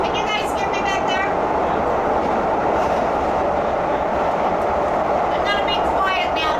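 Metro Expo Line light rail train running through a tunnel in Los Angeles, a loud continuous roar of wheels and motors filling the whole stretch, with a few brief electronic tones near the start and end and people speaking over it.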